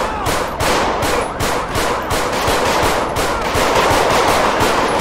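Rapid automatic gunfire in GTA 5 during an LSPDFR undercover police shootout, with dense bursts of shots hammering loudly and continuously throughout.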